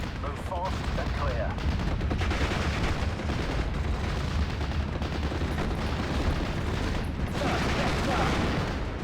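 Steady, dense gunfire and rapid 20 mm cannon bursts in the WWII strategy game Steel Division: Normandy 44, a continuous loud battle din with no pauses.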